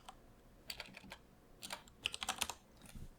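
Keys clatter on a Mac computer keyboard as a file name is typed, quick bursts of clicking clustered into several short runs, close and moderately soft with no talking.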